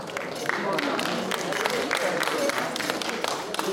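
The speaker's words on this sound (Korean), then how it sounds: "네, 큰 박수 부탁드립니다." Audience applause in a hall during a 2015 charity festival celebration concert at Eunpyeong Culture and Arts Center, a steady dense wash of many hands clapping that holds loud and unbroken throughout.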